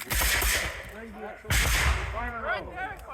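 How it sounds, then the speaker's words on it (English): During a War of 1812 re-enactment battle, massed musket volleys go off in two sharp, crackling blasts about a second and a half apart, with shouting voices of the troops and onlookers around them. "You'll notice they're firing in these mass volleys."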